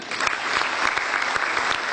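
Audience of TPQ teachers at a gathering in Solo clapping together, a steady, fairly close burst of applause lasting a couple of seconds.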